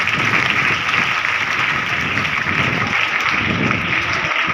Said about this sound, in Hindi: आपके लिए तालियां बजाओ